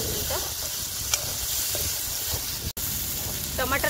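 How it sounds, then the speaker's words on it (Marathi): Tomatoes cooking in a pan over a wood-fired chulha for raw banana bhaji, with a steady sizzle and a few scraping stirs close by, broken once by a brief dropout. "तर आता टमाटरला मी थोडस शिजवून घेणार आहे 2 मिनिटं"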